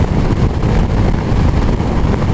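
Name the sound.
strong wind blowing on a motorcycle ride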